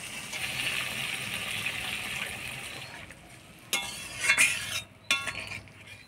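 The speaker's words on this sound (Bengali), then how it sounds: "চিংড়ি মাছটা দিয়ে ভালো করে নাড়াচাড়া করে নিলাম, এবার অল্প জল দিয়ে দিব।" Prawns are stirred in a pan for a yogurt prawn curry while a little water is poured in, making soft scraping and a brief splashy gush over a low, continuous background.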